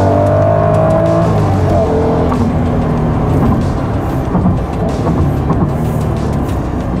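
A Honda NSX engine revs hard, a loud, sustained, close-up mechanical roar that holds steady and pushes toward the redline, with no voices over it.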